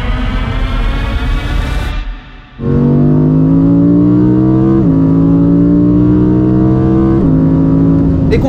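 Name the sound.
Audi R8 GT road car engine accelerating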